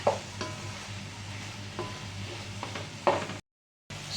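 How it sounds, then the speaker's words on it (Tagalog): A spoon stirs chicken pasta with bell pepper and broccoli in a pan over soft frying sizzle, with a few sharp scrapes and knocks against the metal and a brief dropout near the end. "haluin lang natin ng haluin para pantay-pantay pong mga pampalasa o mga sangkap na ating ginamit"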